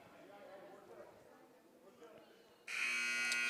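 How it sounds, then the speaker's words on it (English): A loud, flat electronic buzzer blares at a wrestling duel, cutting in abruptly after a stretch of crowd murmur and lasting about a second to the end. "And that is a buzzer."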